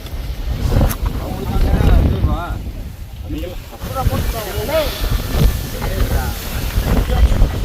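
Strong wind gusts across a hilltop on the Vaasimalai trek, roaring and buffeting steadily throughout while someone talks over it.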